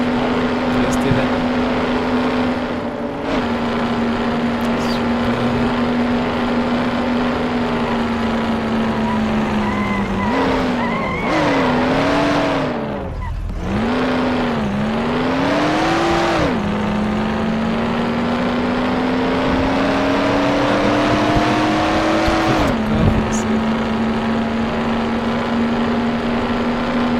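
Race cars lapping the Austrian Racing Circuit in the game Mafia: The City of Lost Heaven, a loud, steady engine drone with pitch dips and swells as it shifts, brakes and accelerates, continuous throughout.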